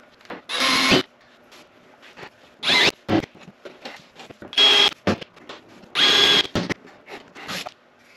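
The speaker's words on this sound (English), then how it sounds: "I'm going to stitch my way up with the rivets." A rivet tool fires in short, loud bursts, about five separate pops spaced a second or two apart with quiet between them, as rivets fasten fender flares onto a Polaris RZR Pro XP off-road vehicle.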